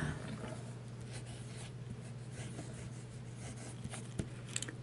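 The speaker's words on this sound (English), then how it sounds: "Does it write? Let's see if it writes." A Pilot Plumix fountain pen with a medium nib writes on paper, a faint soft scratching over a steady low hum, with a few light taps near the end.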